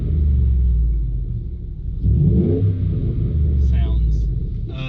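A Ford F-150 with a 5.0L V8 idles with its electric exhaust cutout open, giving a deep, steady, rumbling burble up close with a brief swell partway through, while someone talks over it.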